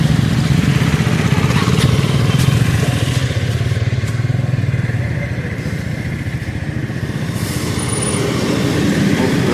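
Three KTM Duke motorcycles ride together on a Sunday road trip, their engines droning loud and close in a continuous rush of engine and wind noise with faint clatter, no voices over it.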